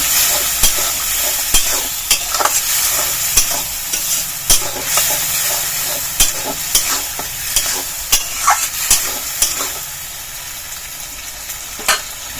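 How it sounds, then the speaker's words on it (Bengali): Spice paste for an egg bora curry frying in a pan, stirred with sharp, evenly spaced spoon scrapes over a constant hissing sizzle, close and clear with no talking. "অল্প অল্প জল দিয়ে মশলাটাকে ভালো করে কষিয়ে নেব"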